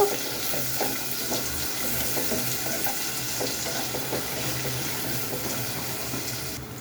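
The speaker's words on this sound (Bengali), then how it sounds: "এটাকে এখন ভালোভাবে নেড়ে চেড়ে দেবো" Chopped onion, garlic and green chillies sizzle steadily in a pan for chow mein as they are stirred, with close scraping and hissing and no talk.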